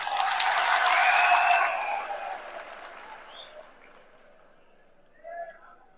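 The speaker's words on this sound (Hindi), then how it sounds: "या तो तालियों में कमजोरी लग रही है" A rally crowd claps loudly in a thick sustained burst of applause that gradually fades away, with a few scattered claps and a faint voice near the end.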